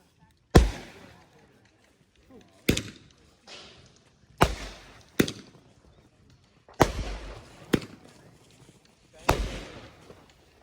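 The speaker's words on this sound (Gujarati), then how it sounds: "બોમ્બ ફોડો." Diwali firecrackers burst one after another, about seven sharp, loud bangs spaced irregularly over ten seconds, each followed by a short crackling tail, with family voices talking in between.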